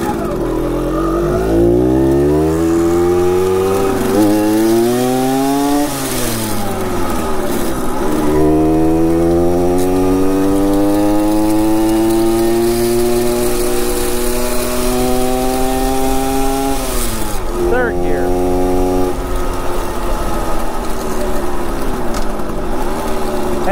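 A 1966 Harley-Davidson Aermacchi M50S motorcycle with slightly slipping clutch plates revs loudly while riding, its small engine climbing in pitch through several repeated rises and drops as gears shift, close and continuous throughout.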